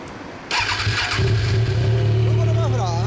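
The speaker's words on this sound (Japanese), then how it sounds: "エンジン音聞かせてもらえる？" A 2016 Kawasaki Z1000S motorcycle fitted with a Vance & Hines muffler starts up with a sharp catch and settles into a loud, steady idle rumble close by, with a person speaking briefly over it.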